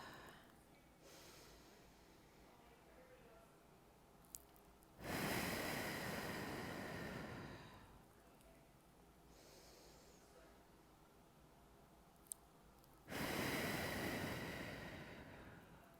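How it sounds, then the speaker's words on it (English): A person in a greenhouse yoga session breathing in through the nose and out through the mouth, with two long, loud, rushing exhales separated by quiet stretches of slow inhaling, close to the microphone. "Begin breathing in through your nose"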